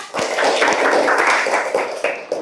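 A class of fourth-grade children claps for themselves in a classroom, a dense, steady burst of many small hands lasting a couple of seconds with a few sharper claps near the end.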